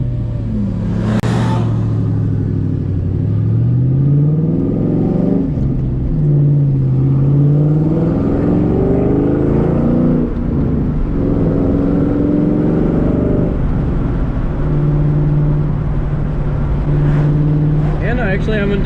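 A Ford Mustang's engine revs through repeated acceleration pulls, its note climbing in pitch, dropping back at each shift and rising again, loud and close inside the car with steady road rumble underneath.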